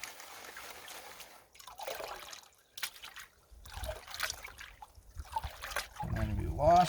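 Water swishes and trickles in a gold pan during panning on the Trinity River in California, close and moderately loud in repeated washes, with someone talking over it.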